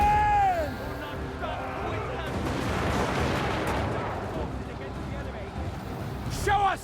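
Mortar artillery fires in a Total War Warhammer battle, heavy booming blasts and dense battle noise filling the scene, with shouted in-game voice lines and crowd-like babble layered over the continuous loud rumble.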